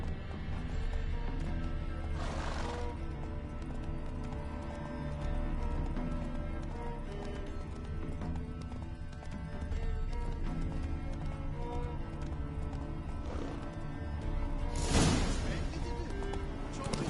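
Horse hooves galloping in a PS4 video game, steady rhythmic clip-clop under a constant outdoor rumble, with brief bursts of noise and some voices.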